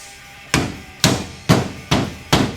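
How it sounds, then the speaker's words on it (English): A hammer strikes a cap on a Wilwood disc brake fitted to a 1969 Ford Mustang: five sharp metallic blows, evenly spaced and close, with no talk. "Watch me swing this hammer with my left hand."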